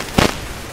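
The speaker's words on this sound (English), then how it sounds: "I hear gunfire." A single sharp gunshot cracks in the video game CS:GO, a short, fairly close burst that rings out briefly and then fades back into quiet game ambience.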